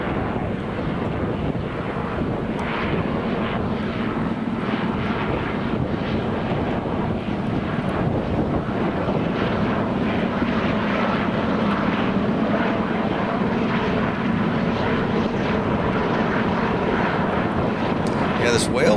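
A large firefighting helicopter carrying a water bag during a wildfire gives a steady, loud rotor and engine roar with wind buffeting, continuous throughout while people talk over it.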